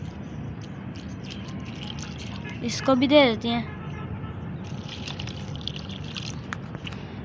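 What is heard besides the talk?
pouring water onto potted plants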